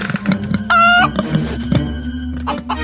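Chickens clucking close by in a barnyard, with a sharp squawk partway through and scattered short clucks around it, no voices.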